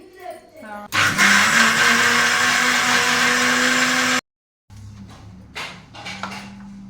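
An electric mixer grinder whirs loudly for about three seconds grinding ginger and garlic into paste in a home kitchen, then cuts off abruptly, with someone talking before and after.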